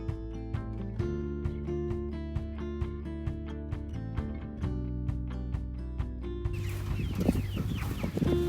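Meat chickens cluck and squawk in a steady series of short calls, fairly close, with a burst of louder flapping or scuffling near the end.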